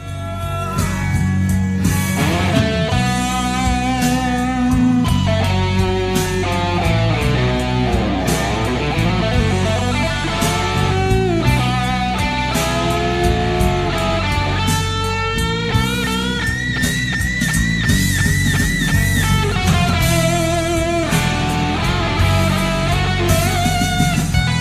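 Distorted electric guitar plays the main metal solo of a song over a full band backing, a dense, continuous and loud performance with no talk.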